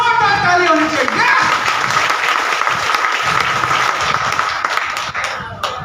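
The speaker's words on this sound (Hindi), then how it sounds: "ये सब लोग हमारे मेहमान के लिए एक बार जोरदार ताली होनी चाहिए।" A hall full of people at a business meeting applaud the guests with loud, sustained clapping lasting several seconds, with a faint voice briefly audible underneath.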